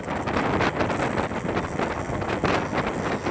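Wind roaring past the microphone on a motorbike ride carrying a family from Brebes to Dieng, a loud continuous buffeting rush with gusty pulses.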